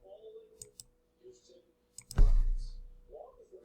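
Mouse clicks while working in TinkerCAD, a few sharp isolated clicks near the mic followed by a louder thump and some faint background talk.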